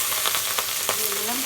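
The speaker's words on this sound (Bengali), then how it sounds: "তরকারির জন্য এবার কড়াইতে তেল দিয়ে দেব। তেলের উপরে দিয়ে দেবো জিরা" Cumin seeds sizzling in hot oil in a wok, a close, steady hiss dotted with a few sharp little pops.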